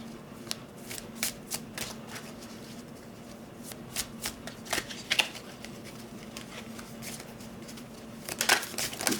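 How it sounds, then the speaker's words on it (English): A deck of cards is riffled and shuffled by hand at close range, quick papery bursts repeating irregularly with a louder flurry near the end over a faint steady hum. "So I'm going to pull out 3 cards."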